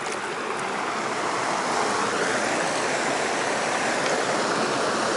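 Shohola Creek, a tributary of the Delaware River, rushing steadily with a broad, constant hiss and burble of flowing water close by and nothing else heard.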